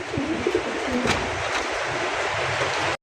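Low cooing from Chinese owl pigeons close by, a few throaty calls early on, over a steady hiss that cuts off abruptly at the end.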